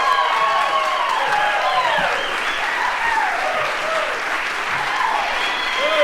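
A comedy club audience breaks into sustained, loud applause with scattered cheers and whoops as a stand-up comedian is introduced, steady clapping filling the whole stretch.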